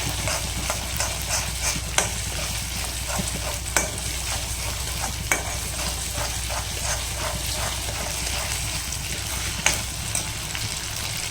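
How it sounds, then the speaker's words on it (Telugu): Ginger garlic paste frying in a pan for a fish fry, a steady close sizzle with frequent stirring scrapes and clicks of a spoon against the pan, no voices. "చక్కగా వేపేద్దాం."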